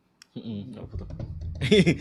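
Rapid clicking of computer keyboard typing while someone edits, heard close under overlapping conversational voices, with a louder burst of speech near the end.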